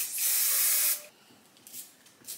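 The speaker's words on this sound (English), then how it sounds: "I'm just gonna add my shaper spray along the parting, along the front." A close aerosol hair shaper spray hisses in one steady burst lasting about a second, followed by a few quieter, shorter puffs.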